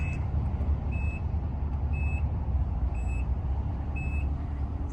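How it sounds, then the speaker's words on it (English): The power liftgate of a 2012 Nissan Murano SL opens with a high warning beep repeating about once a second over a steady low hum. "this also does have a power liftgate, so we're just gonna open that up"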